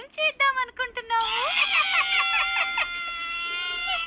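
A cartoon character named Dolly cries in an animated children's movie. The cry comes as short, broken sobs, then rises into a sustained, wavering high wail, loud and close.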